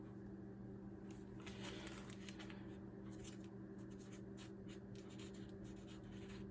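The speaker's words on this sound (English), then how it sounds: "I'll just write on the back of the coffee filter today's date." Pen scratching on the back of a paper coffee filter as a date is written, a faint, close, continuous scribbling with short strokes and no talking.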